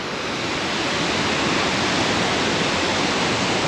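Large, wide waterfall in southern Laos, heard as a loud, steady roar of falling water that stays constant and close throughout, with no voices.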